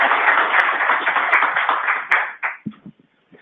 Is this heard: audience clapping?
yes